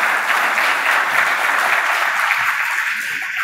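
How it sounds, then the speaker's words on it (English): Sustained applause from a conference audience at the end of a tech talk on productionizing AI, steady dense clapping throughout with no voices. "I think the fact that you got claps without me asking says it all."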